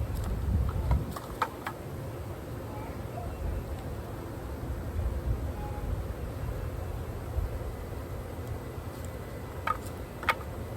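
A swarm of honey bees hums low and steady around a hive, with occasional sharp knocks and clicks from handling the boxes.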